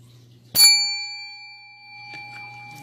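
A single bright ding from a bell, one sharp strike ringing out with a long, clear sustained tone that slowly fades, close and loud, with faint rustling afterwards.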